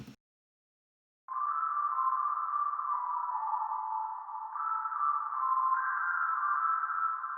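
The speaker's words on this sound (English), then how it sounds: "I added this lead or key sound from Isotope Iris, and this is what that's going to sound like" After a second of silence, a smooth sustained synth lead tone from iZotope Iris holds steady, shifting pitch a couple of times, clean and moderately loud.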